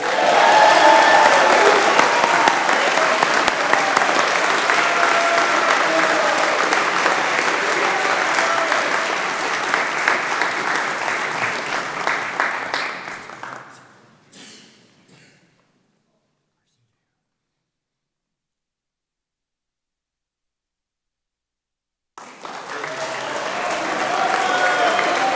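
An audience at a school awards chapel applauds in a long, steady, dense wave of clapping that fades out into silence and then starts again as loud clapping resumes.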